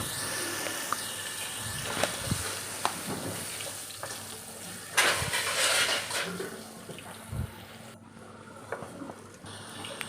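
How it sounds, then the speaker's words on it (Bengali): Potatoes frying in oil for a fish-head muri ghonto, a steady moderate sizzle with scattered clinks and taps of a utensil against the pan, and a brief louder burst of crackle midway. "এবার আমি একে একে আলুগুলো সব ছেড়ে দেবো"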